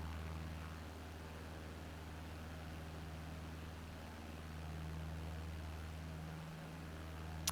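A small propeller airplane climbing at full throttle over the mountains along the Appalachian Trail, a steady, droning engine hum with constant low tones, heard from inside the cabin, with no talking.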